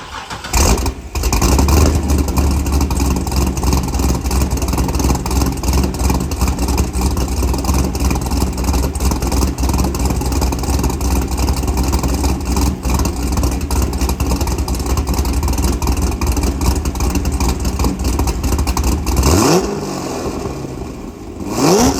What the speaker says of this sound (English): I'll give you a start, a little bit of idle, and a couple revs.